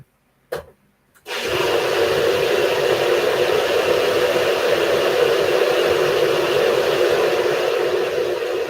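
A blender whirs steadily and loudly through a coconut banana sea moss smoothie after a couple of brief start-up bursts, then holds a constant close roar with no talking.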